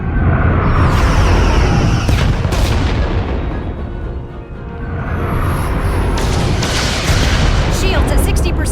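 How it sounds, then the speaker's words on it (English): Phaser fire in the Star Trek Resurgence space battle, a loud sustained barrage of booming energy blasts and rumbling impacts that dips briefly midway before surging again, with voices mixed into the din. "Fire phasers! Firing."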